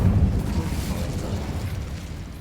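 Incendio fire spell cast in Hogwarts Legacy: a dense, rumbling whoosh of flame that bursts loud at the start and keeps roaring steadily with no pause.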